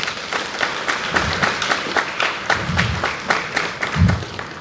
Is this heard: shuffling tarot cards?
no